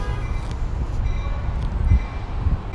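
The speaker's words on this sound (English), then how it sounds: "Sounds like a surfliner pulling in." A Surfliner passenger train rumbles steadily as it rolls into a station, a continuous low mechanical drone with faint metallic squeals above it.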